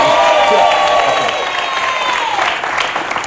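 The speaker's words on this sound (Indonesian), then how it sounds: "Tepuk tangan sekali lagi." Loud, dense applause and some cheering from a television talk-show studio audience, continuous throughout with a faint tonal sound running underneath.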